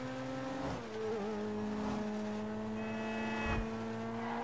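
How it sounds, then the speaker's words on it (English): A car engine in the video game Grand Theft Auto V hums at steady revs, with harmonic tones shifting as it eases off and builds again, close and continuous with no talking. "The car sounds sick."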